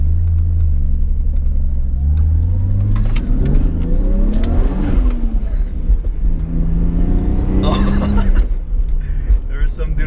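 A turbocharged 2JZ-swapped Lexus IS300 drives and revs, its engine note climbing through gears in rising sweeps with a steady rumble underneath, loud and close from inside the car, with someone talking over it.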